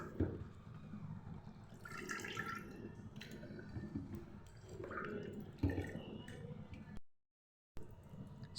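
Pieces of mutton are washed in water, with soft splashes, drips and sloshing coming in bursts at close range, followed by a brief silent gap.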